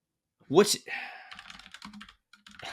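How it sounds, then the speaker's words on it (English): Rapid clicking keystrokes on a mechanical keyboard come in a quick, uneven burst after a short loud sound at the start, close and crisp. "that mechanical keyboard is earning its money"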